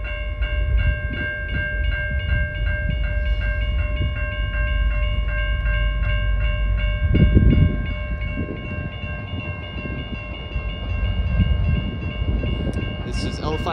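CN freight train L575, led by CN 5666, heads north through the Goddard Rd grade crossing in December. A steady low rumble runs throughout under a continuous ringing crossing bell, with a louder surge midway.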